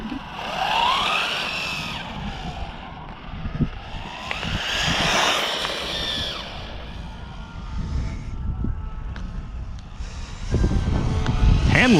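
A Redcat Nitro Earthquake 3.5 RC car with a problem nitro engine runs at full speed, its high, whining buzz rising and falling as it passes at varying distance over steady outdoor noise.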